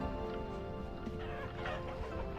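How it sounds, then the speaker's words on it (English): Chickens cluck in the video game Vintage Story, a steady bed of soft, overlapping clucks at moderate volume with no talking. "Hello, chickens."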